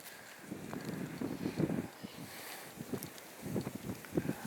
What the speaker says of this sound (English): that wind is brutal